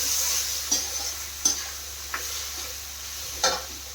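Chili sauce added to a pan of sizzling food while it is stirred, a steady hiss of frying broken by several light scraping and tapping strokes of the utensil, with no talk.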